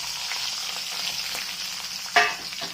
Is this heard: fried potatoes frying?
yes